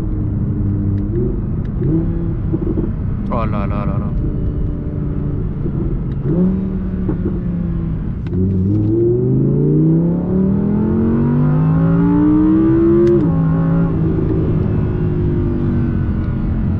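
An Audi R8 fitted with an APR kit revs and accelerates hard, its engine note climbing through the gears in loud rising sweeps with brief shift breaks, while an occupant briefly exclaims in French.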